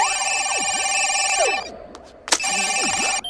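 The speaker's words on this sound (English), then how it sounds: "Yeah, it's a sausage phone." A sausage-shaped novelty telephone rings with a bright electronic warbling tone in two bursts separated by a short pause, loud and close with no talking.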